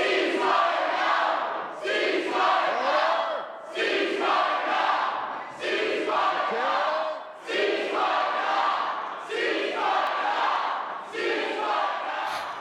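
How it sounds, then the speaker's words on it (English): Protesters in a legislature gallery shouting in loud rhythmic bursts, chanting crowd voices rising and falling roughly every two seconds and echoing through the chamber. "You can hear the speaker yelling order and eventually telling MLAs to leave the chamber now."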